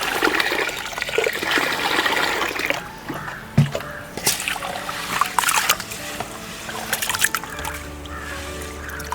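Water pours and splashes as soaked rice is tipped into a basket to drain, a loud gushing rush at first that settles into intermittent trickles and clattering knocks.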